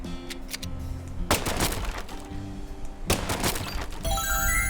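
Two loud bursts of a tranquilizer gun ring out in Deadly Premonition 2, each a sharp blast with a noisy tail, spaced about two seconds apart over a steady game background.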